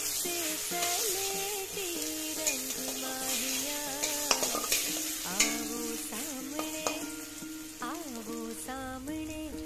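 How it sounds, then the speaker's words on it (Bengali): Cut potatoes frying in mustard oil with turmeric, a continuous close sizzle with frequent clinks and scrapes of a spatula stirring in the pan, while music plays underneath. "কেটে রাখা আলুগুলো সঙ্গে সঙ্গেই ভাজতে দিয়ে দিলাম"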